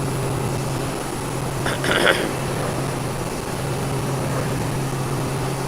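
In a flight simulator game, an airplane cruises with flaps up. A steady engine drone holds throughout, swelling briefly near the middle.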